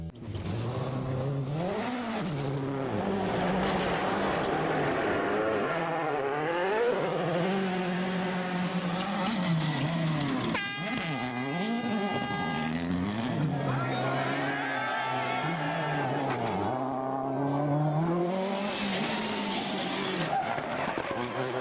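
WRC rally cars race past with loud, continuous engine roar, rising and falling revs through gear changes, and bursts of tire noise, steady and close throughout.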